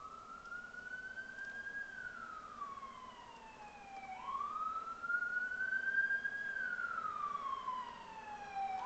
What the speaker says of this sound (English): you probably hear the siren because the window's open